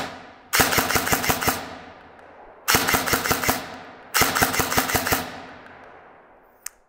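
A Phylax MK18 airsoft S-AEG rifle fires three close, loud bursts of rapid mechanical shots, each a quick rattling string of several cycles, separated by short pauses outdoors.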